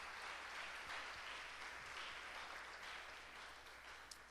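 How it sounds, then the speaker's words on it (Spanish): A church congregation claps in sustained, even applause during a sermon, a faint, distant wash of many hands with no voices standing out. "Dale una ofrenda de palmas al Rey de Reyes y señores"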